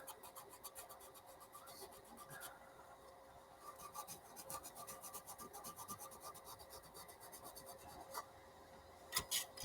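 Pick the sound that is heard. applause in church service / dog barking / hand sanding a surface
hand sanding a surface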